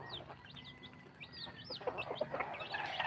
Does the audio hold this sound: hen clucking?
yes